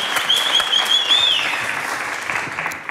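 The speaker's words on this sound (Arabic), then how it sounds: "ذي تصفيقة كبيرة على سي كمال" A studio audience applauds Si Kamal with dense, steady clapping that fills the whole stretch, loud and close, with a brief whistle-like tone near the start and fading slightly toward the end.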